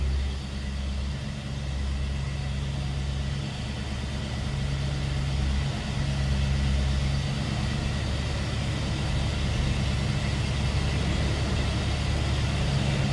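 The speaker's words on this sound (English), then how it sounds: "Little rumble coming out of that V8." The V8 engine of a 1974 Ford Ranchero GT idles with a steady, deep rumble, low and continuous, with no voices or other sounds over it.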